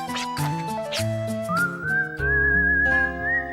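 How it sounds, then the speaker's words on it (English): Someone whistles a melodic tune, clear and fairly close, with notes sliding up into a long held high tone over a background of musical chords. "I can't whistle like that."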